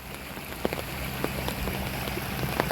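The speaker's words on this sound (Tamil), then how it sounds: "மழை அதிகமாக பெய்ய ஆரம்பிச்சிருச்சு" Heavy rain pours steadily in a village area where crabs are being caught, a dense continuous hiss with scattered sharp drop impacts, close and loud with no voices.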